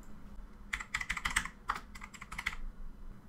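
Quick bursts of typing on a computer keyboard, a couple dozen light clicky keystrokes in irregular clusters, close and fairly quiet, with no voice over them.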